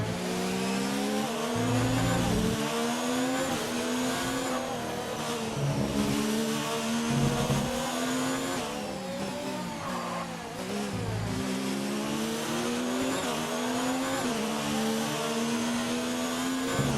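Formula 1 race cars in the game F1 2019 at the Australian Grand Prix, with a loud, high engine whine climbing and dropping through gear shifts as cars pass continuously.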